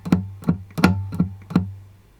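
Five sharp, percussive strums on an acoustic guitar playing a theme tune, some louder than others, with muted dead strokes between them in a steady rhythm.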